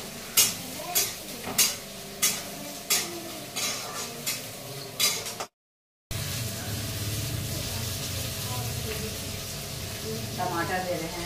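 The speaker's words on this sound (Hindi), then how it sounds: "प्याज को भून रहे हैं" Onions frying in a pan for Maggi noodles, with regular spoon scrapes and stirring clatter over a sizzle, then a brief cut to silence and a steadier, denser frying hiss afterward.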